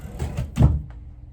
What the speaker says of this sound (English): My drawer is broken in my dresser